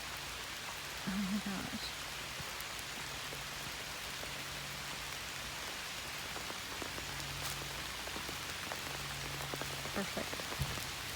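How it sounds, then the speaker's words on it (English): Summer rain pattering steadily on surfaces at a campsite beside a camper, a dense, even hiss of drops close by, with a brief voice exclaiming early on. "this is like the coolest summer rain"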